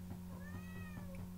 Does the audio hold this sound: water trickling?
no